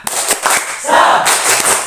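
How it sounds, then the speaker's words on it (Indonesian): A group spirit clap, the tepuk semangat, rings out in rhythmic bursts from a small group, mixed with loud cheering and shouting for the first team during an Indonesian group activity. "untuk kelompok 1 kita beri semangat dengan tepuk semangat"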